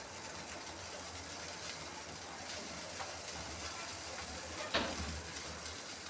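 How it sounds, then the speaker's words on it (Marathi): Water comes to a boil in a pan on a gas stove for rava upma, giving a steady close bubbling rumble throughout with one brief sharper clink near the end. "उकळी आलेली आहे आपल्या पाण्याला"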